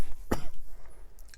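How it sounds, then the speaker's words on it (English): A single sharp cough, close and brief, followed by quiet room noise. "still got a little bit of a cough"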